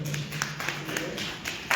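A few light taps of an audience clapping with four fingers at a book presentation in Arequipa, a sparse, soft patter of scattered hand claps over a quiet room.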